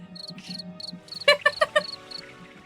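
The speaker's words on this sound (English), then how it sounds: "I played the crickets." Cricket chirping effect played from a soundboard during a live stream: a steady high trill joined midway by a louder, rhythmic burst of pulsed chirps, with low background murmur underneath.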